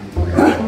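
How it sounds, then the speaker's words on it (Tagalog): A Golden Retriever named Bobby gives a single short bark, close and fairly loud, with no talking over it. "Iba yung tahol niya."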